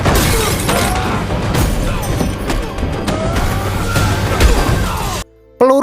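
Glass shatters amid crashes and impacts during an armed gang raid on a house in a film: a dense, loud burst of breaking and smashing that cuts off abruptly near the end.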